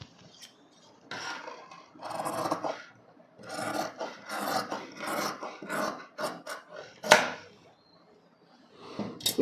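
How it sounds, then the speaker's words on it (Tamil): Scissors snip through blouse fabric in a string of short, crisp rasping bursts separated by brief pauses, close and clear, with no talking. "இப்போ இதை நம்ம கட் பண்ணிக்கலாம்."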